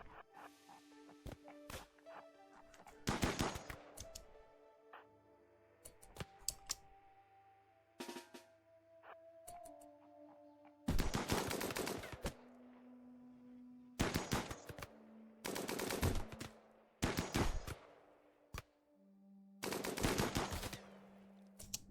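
Gunfire in the Rimworld video game (Royalty expansion, tribal start) as a man is shot: sharp loud bursts of rapid shots come in clusters separated by quieter gaps, with game music and tones beneath and no talking.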